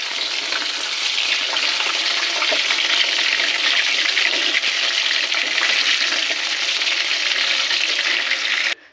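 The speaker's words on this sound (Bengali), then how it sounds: "আবারও আর এক খোলা ভেজে দিচ্ছি" Chicken pakoras for chilli chicken sizzle loudly and continuously in hot oil, a close, even frying hiss that cuts off abruptly at the end.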